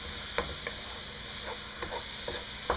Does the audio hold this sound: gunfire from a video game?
no